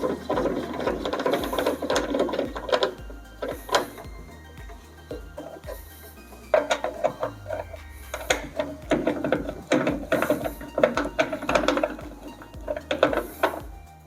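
Parts are fitted and tightened while assembling a professional soft-serve ice cream machine, a Sylco S110, producing close metallic clicks, ratcheting and clattering handling noises in irregular bursts, with no speech.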